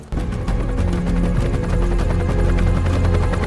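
A helicopter in flight with a loud, continuous, close rotor throb and engine hum that fills the whole stretch without letting up.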